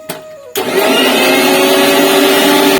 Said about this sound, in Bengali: দেখো আমি মশলাটাও বেটে নিচ্ছি মশলা বলতে কাঁচা লঙ্কা পেঁয়াজ একটা টমেটো আদা আর জিরে